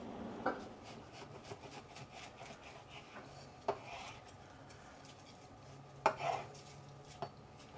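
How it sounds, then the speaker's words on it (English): Knife cutting trimmed pork lengthwise into roughly one-inch strips on a board, with soft rubbing strokes and a few sharp clicks and knocks, fairly quiet and close, no talking. "I'm slicing them lengthwise into approximately 1-inch strips"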